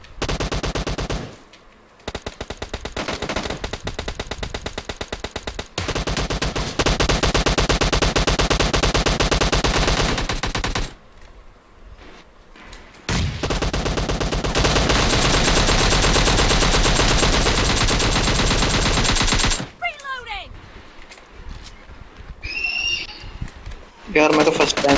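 Long stretches of rapid automatic gunfire fill a PUBG Mobile team deathmatch game, loud and near, broken by short pauses and bursts, with a voice talking over some of it.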